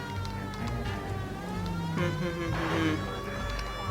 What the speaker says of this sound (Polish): czy wy słyszycie syrenę?